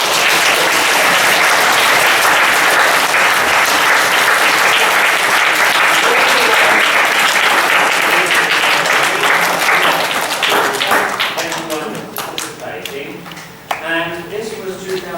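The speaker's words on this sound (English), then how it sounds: "Let's have a round of applause for the speaker." A school assembly audience gives a loud round of applause for a speaker, many hands clapping densely for over ten seconds before the clapping thins out and a voice begins speaking near the end.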